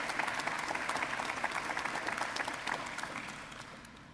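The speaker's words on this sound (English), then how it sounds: "I'd like you to give a round of applause to these soldiers in the formation" A crowd at a field hospital change of command ceremony gives sustained, dense applause for soldiers in formation, loud at first and gradually fading toward the end.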